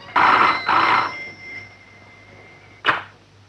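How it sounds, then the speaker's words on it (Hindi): A telephone bell in a 1985 film: a single short electronic ring chimes twice in quick succession, then a faint tail, followed by one more brief ring after a pause. "और तभी एक दिन अचानक फोन की घंटी बज उठी।"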